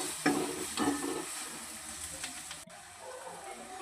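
Turmeric, red chili, cumin and coriander powder sizzle in hot oil in a pan, a close, steady hiss with a couple of stirring scrapes early on, heard alone with no talk.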